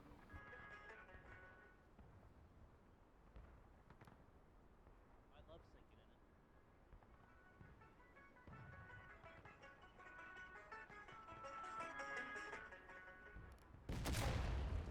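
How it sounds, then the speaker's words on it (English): A cannon fires in a Civil War battle video game set on a hillside with Union troops, the booming shot sounding faint and distant amid muffled battle noise, with a louder burst at the end. "Nice cannon shot."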